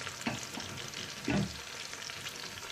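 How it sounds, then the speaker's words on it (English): Chicken pieces going into a hot pan for coconut vegetable fried rice, giving a steady soft sizzle of frying with a louder burst of hissing and a stir partway through, close and alone. "So I'll be adding my chicken."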